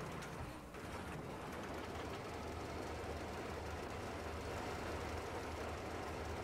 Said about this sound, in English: I love how you can hear the train tracks and everything.